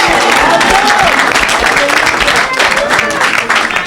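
A church congregation bursts into loud, sustained applause, dense clapping filling the room with some voices mixed in throughout.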